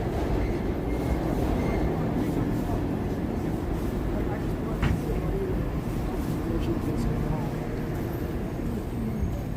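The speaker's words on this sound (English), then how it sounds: "subway trains, you can hear them down below" Subway trains rumble beneath a New York City street near Grace Church in winter, a steady low roar running throughout with faint traffic on top and a person talking over it.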